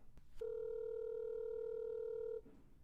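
A single steady electronic telephone ring tone for an outgoing call sounds for about two seconds, a clear sustained pure tone over faint background hiss, with no talk.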